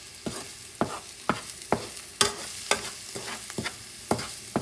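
Spicy chicken with red pepper and brown sugar is stirred in a hot pan. A utensil scrapes and taps in about a dozen distinct strokes, each loud and close against a low sizzle, and no voice is heard.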